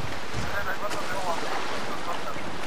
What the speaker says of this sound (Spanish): yo pillo una moto de agua